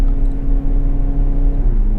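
A VW Golf Variant station wagon's engine revs under throttle from inside the cabin, a steady droning hum with layered low tones that shift slightly in pitch near the end.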